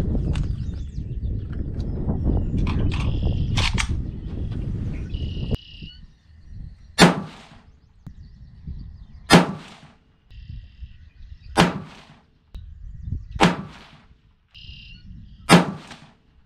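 A .224 Valkyrie rifle loaded with CFE223 powder fires a five-shot group: five sharp cracks about two seconds apart follow a stretch of steady wind-like noise.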